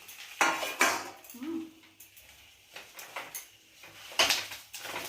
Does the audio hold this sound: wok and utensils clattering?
yes